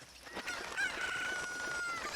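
Chicken in Zelda: Ocarina of Time crows and clucks continuously, a strained, warbling in-game fowl call running the whole moment over a busy background.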